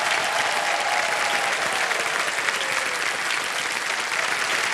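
Sustained audience applause fills the KBC quiz show studio, an even, unbroken patter of many hands clapping with no one speaking throughout.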